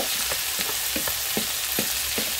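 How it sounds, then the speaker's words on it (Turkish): Sliced onions, including fresh green onion, sizzling in hot oil in a pan, a close, steady crackle with periodic stirring scrapes and no talking. "Soğanları atacağım yağa."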